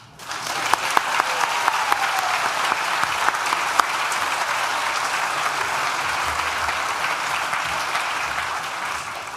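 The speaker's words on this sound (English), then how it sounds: "So let's have a round of applause for the band." Graduation guests in a ceremony hall give the band a round of applause, swelling quickly into steady, dense clapping from a large crowd that holds strong for several seconds before easing slightly.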